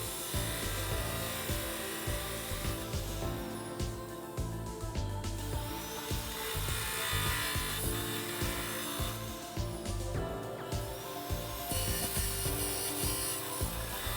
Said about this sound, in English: I need to file that top flat part back a bit